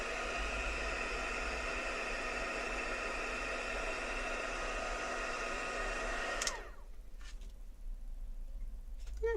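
An embossing heat tool blows a steady, close, loud whooshing hum for about six seconds, then cuts off abruptly, leaving quiet room noise with a few small clicks.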